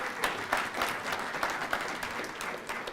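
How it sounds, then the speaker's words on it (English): Audience clapping at a graduation ceremony, a moderately distant room full of hands with uneven rhythmic peaks, continuous throughout and no speech on top. "so big round of applause for them."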